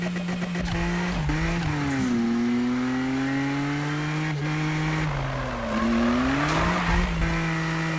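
A 2016 BMW M2 in the video game Need For Speed 2015 drives and skids, with a sustained engine drone that rises and falls through gear changes and tire squeal during drifts. No voices are heard.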